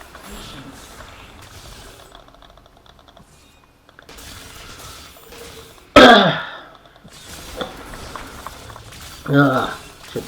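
A gamer clears his throat and coughs while playing Diablo 3, one sharp loud burst of throat clearing mid-clip and a second weaker cough near the end, over quiet game sounds and low background noise.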